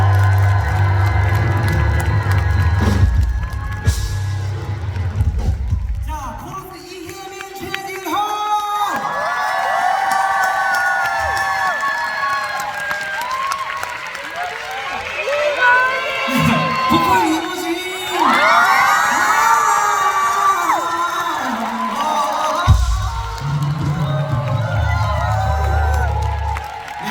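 A concert audience at a Seoul stop of a touring singer's show roars, cheers and claps, with loud shrill whoops and shouts rising and falling over a long, continuous swell of crowd noise.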